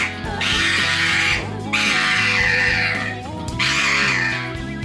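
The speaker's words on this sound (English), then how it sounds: "A pug dog. A simple nail trim, and he screamed like a horror movie star." A pug dog screams during a nail trim: three long, shrill, wavering shrieks in quick succession, loud and close, with a steady low tonal backing beneath.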